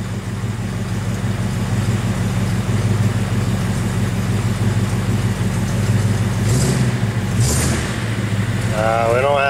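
A car engine with a worn BW 35 automatic transmission that gives no drive runs under load, a close, steady droning hum held throughout, with people speaking over it toward the end.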